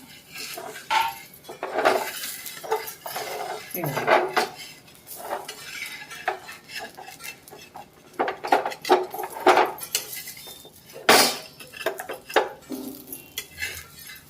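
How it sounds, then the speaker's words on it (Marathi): A lid comes off a pan during cooking of crisp fasting thalipeeth on a medium flame, amid a busy run of metallic clatter, clinks and scraping utensil sounds, loud and close with no talking. "आपण झाकण काढून घेऊ"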